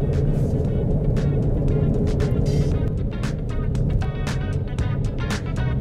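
SUV tires rolling over a rough test road surface, a continuous low rumble and roar with irregular sharp impacts and rattles from the coarse pavement, loud and close throughout.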